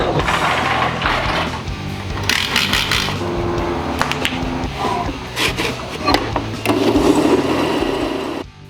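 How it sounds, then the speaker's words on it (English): Wooden pieces freshly glued are clamped together, with repeated metallic ratcheting clicks and clunks of clamp mechanisms tightening, close and fairly loud, in uneven bursts without speech. "Then I clamped them and left them to dry."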